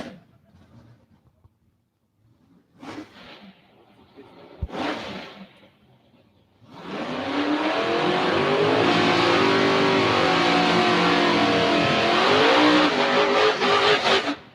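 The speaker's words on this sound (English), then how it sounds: "All right, the burnouts are done." Race cars doing burnouts at the South Carolina Motorplex drag strip: a few short engine blips, then a loud, sustained roar of revving and spinning tyres that holds to the end.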